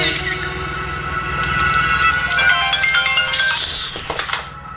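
A phone ringtone plays by itself with no voices, a steady run of bright melodic electronic tones that grow busier and louder toward the end before cutting off.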